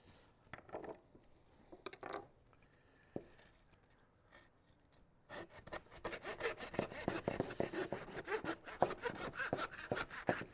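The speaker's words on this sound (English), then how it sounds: "So we're doing this with a handsaw." A handsaw cuts between pork chop bones. A few hesitant strokes come first, then a quick run of rasping back-and-forth strokes grows louder and more regular, close and alone.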